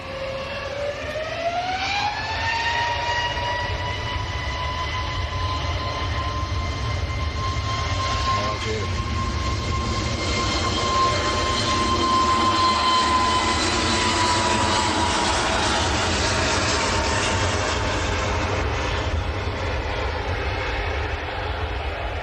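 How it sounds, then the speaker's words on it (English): EasyJet airliner bound for Sharm el Sheikh rolling away at Manchester Airport: a steady, loud jet engine roar with a rising whine that settles into a sustained tone, continuous throughout with faint voices underneath. "That was EasyJet to Sharm el Sheikh that just rolled away"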